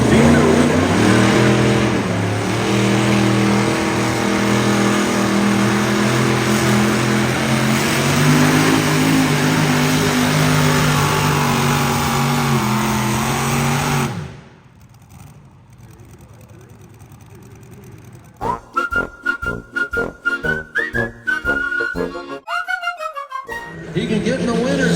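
A naturally aspirated tractor-pull engine with a couple of small turbos at a county fair truck and tractor pull, a loud sustained roar for about fourteen seconds, then a lull and a run of short choppy revving bursts.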